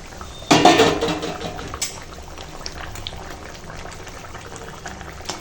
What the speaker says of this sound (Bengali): আর এখন ঝোলে জাল উঠে গেছে